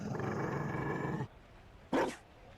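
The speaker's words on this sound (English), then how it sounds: "You found a dog?" A Mabari war hound in Dragon Age: Inquisition's Trespasser DLC gives a single short, gruff bark after a fuller stretch of background sound fades out, close and fairly loud.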